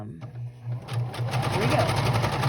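Sewing machine stitching appliqué, a fast rhythmic whir of needle strokes that starts after a brief pause and runs steadily up close, with a voice talking over it at first.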